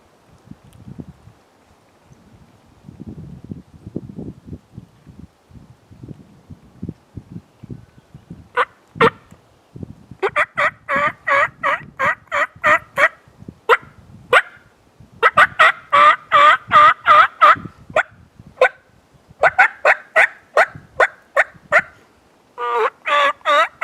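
A Beaver Creek Kiss of Death turkey call, imitating a very old, raspy hen: soft scratchy strokes at first, then runs of close, loud, rasping yelps in quick rhythmic bursts.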